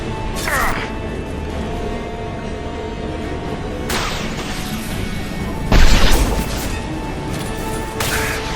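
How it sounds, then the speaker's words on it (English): Abominations exploding on contact in the game Mass Effect 2, several loud bursts with a heavy boom near the middle, set over steady combat noise and background hum. "They literally explode on contact"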